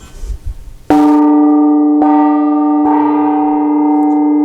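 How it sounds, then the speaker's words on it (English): A hanging gong struck three times in succession, each hit a bright sustained metallic ring with rich overtones that overlaps the next, loud and close after some faint handling noise at the start. "That's why the gong sounds the way it does."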